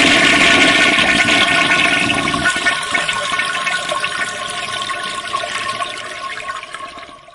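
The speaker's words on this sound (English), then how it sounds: "that toilet flush sound is a bit cringe" Toilet flush in the cabin of a Citation CJ3+ business jet in MSFS 2024, a loud rushing water burst that gradually fades and trickles out over several seconds, with no voices.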